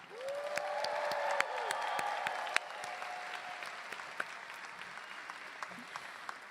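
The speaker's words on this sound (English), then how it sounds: "So can we cheer for our online viewers joining us from home?" An audience at an honor society induction ceremony for NSCS, Alpha Chi and Delta Mu Delta claps and cheers steadily, with a bright whistle or shout near the start, a dense roomful of clapping that thins slightly toward the end.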